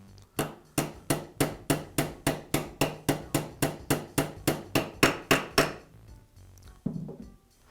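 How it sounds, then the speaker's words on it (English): A hammer taps bearings into place on the roller of a Makita belt sander, about twenty sharp, evenly spaced metallic knocks in quick succession that stop abruptly, followed by a faint clatter. "I'll tap the bearings into place until they stop moving."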